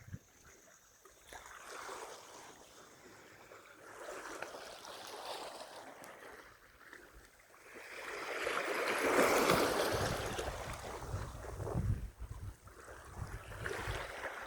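Sea waves at Beach Zero, El Nido wash and surge in soft swells that build to a louder crash, faint and breezy with wind buffeting the microphone.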